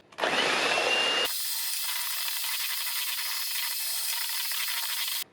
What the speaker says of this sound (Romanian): Punem albușurile într-un vas mai încăpător și le batem în spumă.